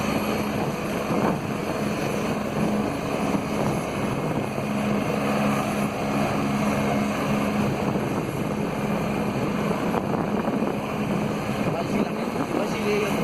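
A helicopter lifts off outdoors, its steady rotor and engine roar holding loud and constant throughout, with faint voices mixed into the din.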